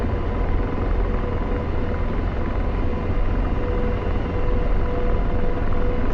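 An AH-64 Apache helicopter as collective is applied for takeoff, a loud, continuous, dense rotor and turbine roar that holds steady throughout, close by, with no voices.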